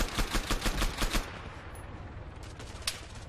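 Gunfire in Arma 3 during a King of the Hill match: a rapid, loud burst of evenly spaced automatic shots, then quieter scattered distant rounds and one sharp later crack.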